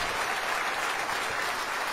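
Church congregation applauding during a sermon, a dense, steady wash of clapping from many hands that fills the whole stretch without a break, with no voices standing out above it.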